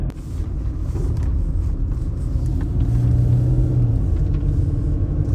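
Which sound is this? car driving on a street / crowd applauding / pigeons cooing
car driving on a street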